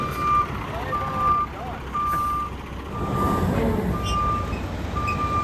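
Repeated reversing beeps from a garbage truck, a steady evenly spaced series of high tones sounding moderately loud over engine rumble and background chatter.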